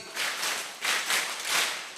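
A crowd at an Indonesian Islamic sermon claps in unison on cue, producing several distinct, evenly paced bursts of group applause, moderately loud and close, with no talking over the claps.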